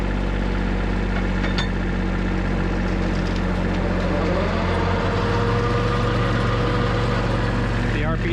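A tractor engine runs with its PTO engaged to drive a 15-foot hedge trimmer, a loud, steady low drone close by, its pitch lifting slightly partway through.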